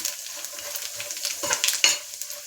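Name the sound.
frying and stirring in oil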